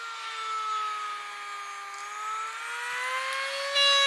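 A Diamond EzzDoo multi-speed chainsaw sharpener runs steadily at a middle speed, giving off a smooth, close, high-pitched whine that rises slightly near the end.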